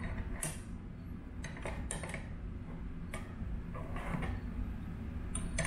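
Small wrench tightening the nut on a Rancilio Silvia steam wand fitted to a Gaggia Classic espresso machine, giving a scatter of faint metallic creaks, clicks and ticks over a low steady background hum, with no talking.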